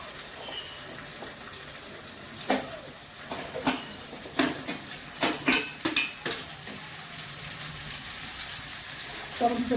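Green jackfruit pieces tipped into a pan with green chillies for a curry, followed by a run of clattering stirring scrapes and soft sizzling, close and moderately loud, with a quiet kitchen background throughout.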